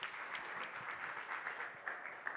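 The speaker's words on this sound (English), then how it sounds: "please give Marek a big round of applause." Steady audience applause from a tech conference crowd at a blockchain testnet talk, even and sustained, heard at a moderate distance with a few louder claps standing out.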